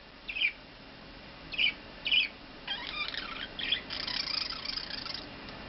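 A pet budgie chirps and sings indoors, giving a few short separated chirps and then a longer stretch of warbling song, close and fairly quiet with no talking.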